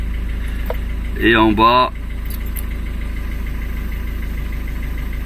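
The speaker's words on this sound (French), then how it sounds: "En tout cas, ça redémarre." A Ford Focus with an immobiliser fault, its engine idling after a restart with a steady low rumble and hum, while someone speaks briefly over it.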